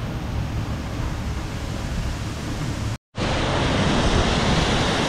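Water rushes and roars loudly and continuously at Dhokaney Waterfall near Nainital, a broad, close wash of noise broken by a split-second cut before resuming just as strong.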